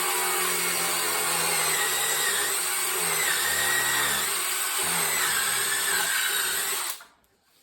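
A power drill fitted with a spade bit bores a hole during layout bench work, a loud steady whirring grind with slight pitch wobbles that cuts off abruptly near the end.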